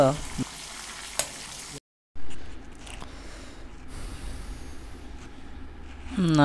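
Green chilies and curry leaves frying in oil over a low flame give a steady, close sizzle, broken by one brief drop to silence before the frying noise resumes.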